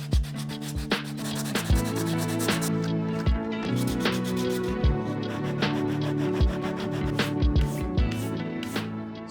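Plastic shielding edge sanded by hand in a small workshop, a steady rasping rub with repeated sharp knocks and strokes throughout, close and fairly loud, no voices.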